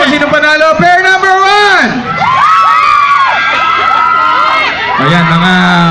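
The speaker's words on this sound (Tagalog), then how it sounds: "Palakpakan na may sigawan na para malaman kung sino panalo" A shopping-mall event crowd at SM City Davao erupts in loud shouting, whooping and cheering, with children's high voices prominent and a host's voice mixed in; applause is not distinct beneath the screams.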